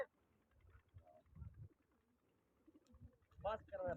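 Pigeons in a Pakistani bird-keeping contest, with soft cooing and wing flutters at low level, then a louder burst of fluttering and cooing near the end while people talk in the background.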